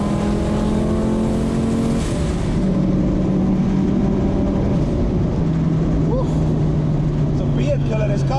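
A 510 bhp Audi 80 cabriolet drives down the road with a loud, steady engine drone and shifting tone that runs throughout, while someone talks over it.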